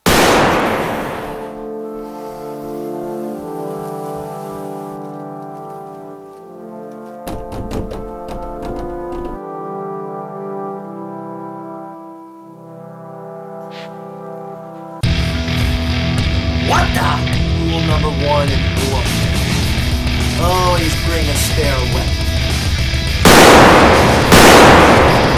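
Gunshots ring out in an amateur film as a quick cluster of sharp cracks over a sustained musical score, followed later by louder, denser bursts of noise.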